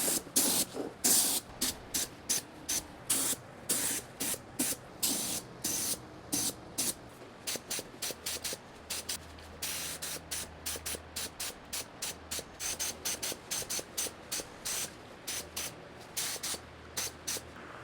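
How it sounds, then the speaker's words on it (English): Rust-Oleum black aerosol primer sprayed onto the wheels of a 1976 Triumph Spitfire during restoration: repeated short hissing bursts in a steady rhythm, close and fairly quiet, with no talking. "I also just hit the back side of the wheels with some black Rust-Oleum primer"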